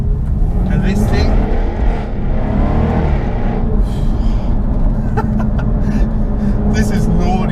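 Stock Jaguar F-Type R with a V8 engine, one of 271 built, roaring loudly and steadily at close range with rising revs, alongside someone talking.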